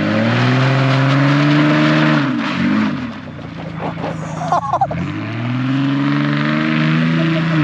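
A Ford Ranger pickup with its muffler deleted revs loudly up close, the engine note swelling, dipping around the middle, then climbing and holding steady at a raw, throaty idle-to-rev drone.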